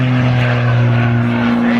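An Extra Cap 580 aerobatic aircraft pulling into a vertical climb at an air show, its loud propeller engine droning steadily with a strong low tone for the whole stretch and no voices.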